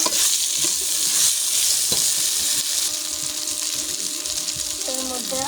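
Hilsa fish sizzling steadily in hot oil while being stirred, with occasional scrapes and clinks against the pan throughout; no talk.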